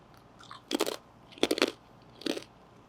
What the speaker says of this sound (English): This has been my secret hack to snacking on, a chip-like thing, but plantains are amazing.